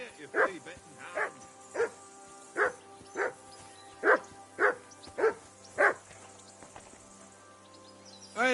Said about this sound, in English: Call off that damn dog before he wolfs down the last of our meat.